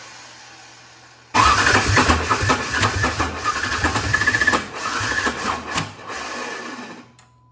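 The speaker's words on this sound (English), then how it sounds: "That starter's having a heck of a time." A Ford Ranger's starter labours to crank the engine in a loud, uneven burst of churning, rhythmic grinding that lasts several seconds before dropping away to quiet.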